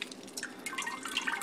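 Water drips and trickles quickly off a turkey lifted out of a water-filled pot, a close, brief patter of small drops with no talking.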